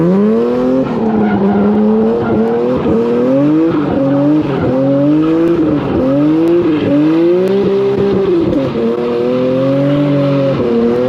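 Tuned Infiniti Q50 with an automatic transmission sliding at night, its engine revving up and down in loud wavering sweeps while the tires squeal continuously for several seconds, with no voices.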